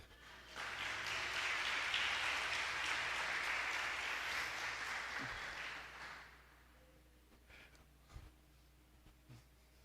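A church congregation applauds during a bishop's sermon, loud sustained clapping that swells quickly, holds for several seconds, then fades out, leaving a few scattered sounds.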